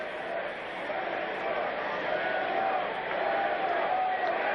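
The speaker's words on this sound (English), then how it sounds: "Some of the fans starting up a cheer for Randall Cunningham." Fans in a football stadium at a 1986 Chargers at Eagles game in Philadelphia raise a cheer for Randall Cunningham, a broad, steady crowd roar that holds loud and continuous throughout with no distinct breaks.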